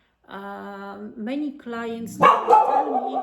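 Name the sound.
dog barking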